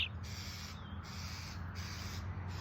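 Baby bird calling outdoors near tall grass, faint repeated raspy squawks over a steady low background hum, no talking.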